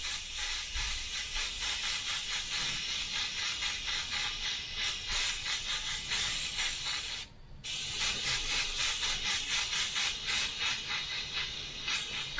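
A Harder & Steenbeck Ultra airbrush spraying silver paint gives a steady, close airy hiss that runs continuously, with one brief break partway through before resuming.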